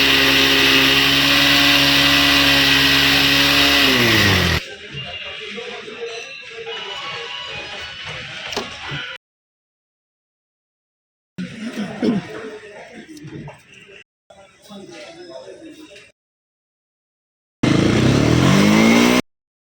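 A 2021 Bajaj Pulsar 220 BS6 motorcycle with a battery charging problem revs loudly and close at the start, its pitch climbing and holding. Quieter, choppy engine stretches broken by silent gaps follow, and it ends on another short, loud rev.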